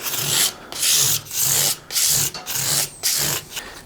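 Metal fret-crowning tool rubbed back and forth along a guitar's frets to round them during fret dressing, producing loud, close, rhythmic rasping strokes, about seven in a steady cycle.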